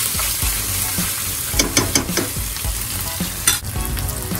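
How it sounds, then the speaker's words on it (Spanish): Ají amarillo paste fries in a pan with a constant hiss of sizzling oil, and a spoon stirs and scrapes in short bursts near the middle, close up and without talk. "Le he agregado tres cucharitas de ají, ají amarillo. Hay que se dore un poquito el ají."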